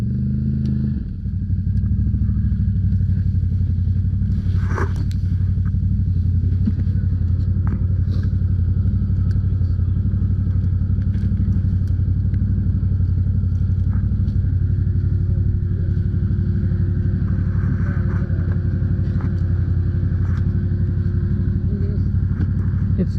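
An off-road machine grinds along a muddy bypass trail with a heavy, steady engine rumble and drone, occasional clunks and splashes, and people talking over it.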